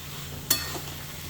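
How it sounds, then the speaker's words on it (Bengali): Potatoes being sautéed with spices in a pan, a low sizzle under one sharp scrape or clink of a spoon against the pan. "আলুগুলো ছাড়ার পরে এই মশলার সাথে আলুগুলো একটু ভালো করে কষাই নিব"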